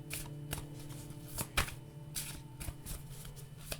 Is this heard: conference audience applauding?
no